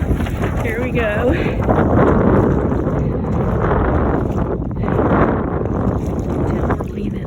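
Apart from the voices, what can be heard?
Hobie kayak sailing, wind catching the sail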